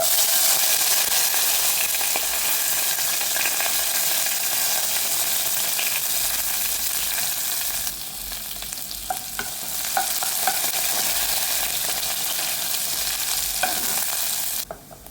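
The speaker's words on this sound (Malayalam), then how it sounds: "അരിഞ്ഞു വെച്ചിരിക്കുന്ന ഉള്ളി, കറിവേപ്പില, മുളക് എല്ലാം ഇട്ട് കൊടുക്കുകയാണ്" Chopped onion, curry leaves and chilli frying in oil with fenugreek for a Kerala fish curry, a loud continuous sizzle with stirring scrapes that briefly dips midway before resuming, no talk.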